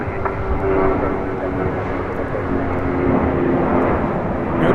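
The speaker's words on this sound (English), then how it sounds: "We got that A319 now rolling down to 25 right." An Airbus A319 airliner takes off from runway 25 right at LAX, a loud, steady engine roar that holds its level for several seconds with no talk over it.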